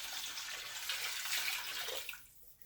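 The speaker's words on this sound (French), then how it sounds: "Je remplis mon bol avec de l'eau comme vous voyez là." Tap water pours steadily into a bowl in a kitchen, a close continuous rushing splash that fades out at the end.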